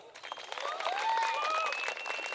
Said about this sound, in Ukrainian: ми вітаємо всіх організаторів гарними аплодисментами